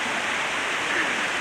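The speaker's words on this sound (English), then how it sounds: "We thought we'd sit on this log by the waterfall and talk to you." A waterfall roars in a steady, unbroken rush beside a pool below, filling the air with dense white-noise spray that holds constant throughout.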